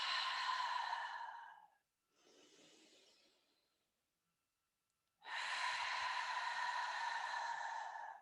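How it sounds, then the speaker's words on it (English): Slow, deep breaths during a guided relaxation at the end of a hamstring stretch routine: a long, steady exhale, a softer inhale, a pause, then another long exhale, close and clear with no talking. "Big inhale through the nose. A nice slow exhale."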